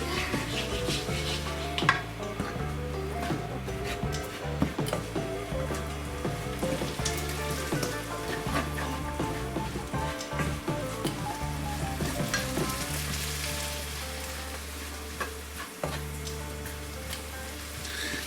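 Food sizzles steadily in a pan over low to medium heat while being stirred, with a continuous crackling hiss and scattered clinks and scrapes of utensil on pan, faint and close, no talking.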